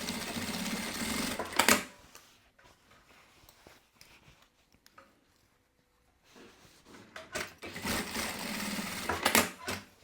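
A sewing machine stitches a strap in two close, rapid bursts of mechanical chatter separated by a few seconds of near silence with small handling taps.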